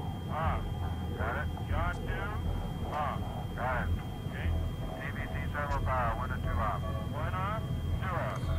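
A lunar lander's engine in the Lunar Flight game gives a steady, continuous low rumble of thrust, loud and unbroken throughout, while someone talks over it.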